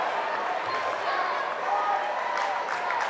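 A high school student section cheers during a homecoming varsity basketball game against Kickapoo, a sustained crowd roar mixed with clapping and scattered shouts that swells slightly toward the end, with voices in the mix.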